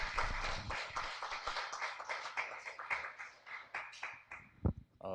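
Audience applause at a school morning assembly, a dense wash of many hands clapping steadily for about five seconds before thinning out near the end.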